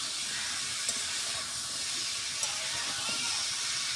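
Potato and bitter gourd frying in spiced oil, a loud continuous hiss and sizzle close up, fairly even throughout with faint stirring clicks.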